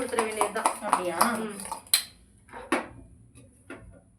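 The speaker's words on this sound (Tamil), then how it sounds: "இப்போ ஒரு மிக்ஸ் கொடுத்துட்டு ஆயிலில் போட்டு இன்னும் நல்லா மிக்ஸ் கொடுத்துட வேண்டியது தான்." A spoon stirs Korean-style Maggie masala with chili sauce in a bowl, making a run of close metallic clinks and scrapes that thin out into a few sparse knocks.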